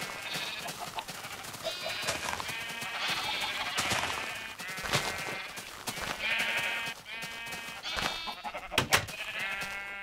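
Several Minecraft sheep bleat repeatedly, overlapping wavering baa calls that come and go at close range, with someone talking quietly in the background.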